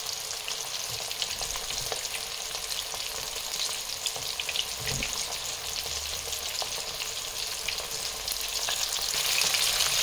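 Breaded chicken wings fry in hot oil with a continuous, busy sizzle and fine crackling. The sound holds steady and close throughout, with no voices.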